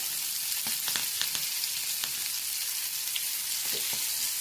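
Big sardines fry in coconut oil with curry leaves, giving a steady, close hiss of bubbling oil broken by scattered sharp pops and crackles, with no talking.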